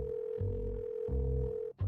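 A phone line purrs with a steady electronic ringback tone while a call is placed, a continuous hum pulsing in two long bursts before cutting off abruptly.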